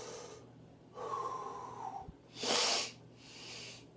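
After eating a huge habanero pepper, a man breathes heavily in a quiet room, with ragged gasping inhales and forceful exhales coming in uneven bursts close to the microphone.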